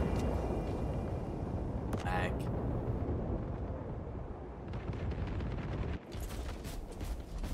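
A sticky grenade detonates amid dense, continuous gunfire and explosions during a Warhammer 40,000 Space Marine 2 PvP match, with a sharp burst near the two-second mark standing out from the loud, cluttered battle noise.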